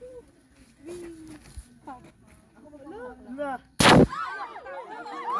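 A single loud, sharp artillery blast booms out during a military confidence firing, landing after scattered chatter and children's voices, with the crowd's talk resuming over its fading echo.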